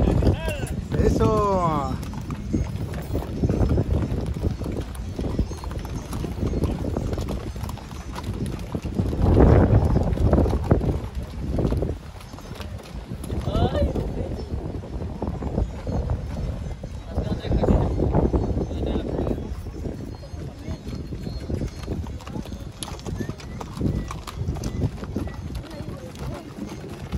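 Horses' hooves clip-clop on the ground during a festival procession for a patron saint celebration in Alaquines, San Luis Potosí, a steady uneven clatter mixed with wind noise and people talking throughout.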